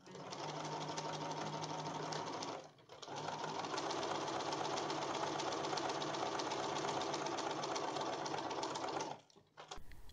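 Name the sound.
sewing machine stitching coat shoulder and arm seams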